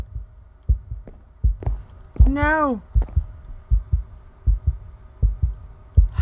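Heartbeat in a Minecraft horror map: steady, low, thumping double beats repeat throughout at a regular pace, loud and close, with a brief voice speaking over them partway through.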